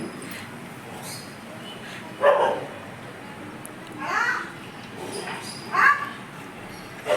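A dog barks outdoors in a few sharp, separate barks at moderate distance, with voices and a child's chatter in the background.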